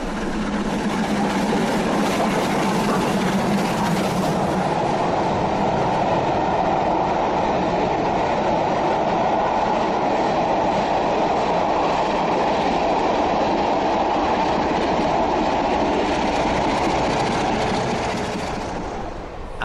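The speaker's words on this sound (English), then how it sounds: "Our 2 locomotives are pulling our long and heavy train at 65 miles an hour" A long, heavy train hauled by two locomotives at 65 miles an hour rumbles past steadily and loudly, with a continuous roar of wheels on rails and faint clickety-clack throughout.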